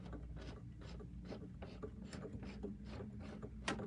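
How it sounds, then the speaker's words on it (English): Hand wheel of a Baby Lock sewing machine turned while sewing a buttonhole, giving a run of soft mechanical clicks and ticks in an uneven rhythm, close and quiet with no voices. "So I'm going to hand wheel towards me."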